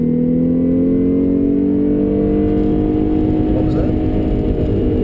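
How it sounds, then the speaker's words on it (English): Volkswagen Golf R engine revving under acceleration, a loud, continuous droning roar whose pitch climbs steadily, heard from inside the car for the whole stretch. "Sorry, I couldn't hear you over the awesomeness of the engine."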